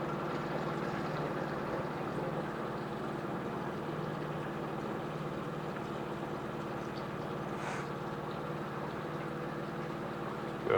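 A 2002 Yamaha 25hp four-stroke tiller outboard motor idles steadily, a continuous low, even engine rumble at moderate distance with no voices.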